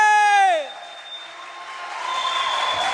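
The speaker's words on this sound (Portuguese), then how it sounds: "Vamos dar um aplauso a Jesus" A church congregation breaks into applause for Jesus right after a sustained voiced tone, the clapping spreading into a dense, steady wash that continues to the end.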